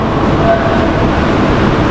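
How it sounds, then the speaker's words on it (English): A Lagos Blue Line mass transit train rumbles past close by, a steady broadband roar with faint rail clatter and no talking. "that is the train."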